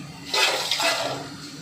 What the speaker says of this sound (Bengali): এবার জল থেকে আমি ছেঁকে নিচ্ছি